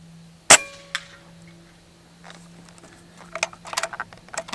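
A Benjamin Akela air rifle fires at cans: one sharp, close crack, then a faint metallic ping from the hit, followed by scattered light taps and rustling.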